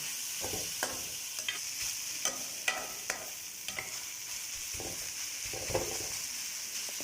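Vegetables for samosa filling fry on a medium-low flame, a close, steady sizzle broken by repeated scraping stirs and clacks of a spoon against the pan every second or so, with no talking.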